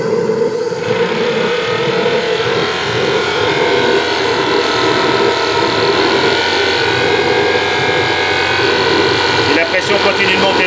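The Liva 2 steam speedboat's steam engine idles at 5 bar of pressure, giving a loud, continuous droning hum with a dense mechanical rumble that holds steady for the whole stretch.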